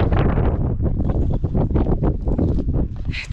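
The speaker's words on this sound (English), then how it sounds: "It's really windy." Loud, gusty wind on snowy Säntis mountain in Switzerland buffets the microphone in heavy rumbling bursts, roaring close and continuous with no voices.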